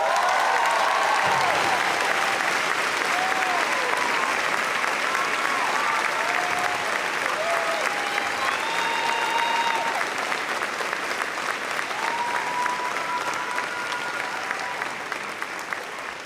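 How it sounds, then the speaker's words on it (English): Sustained, dense applause fills a high school graduation ceremony as a crowd honors the co-valedictorians, loud and even throughout with a few cheers rising above it, tapering slightly at the end. "Can I get another round of applause for these two amazing people?"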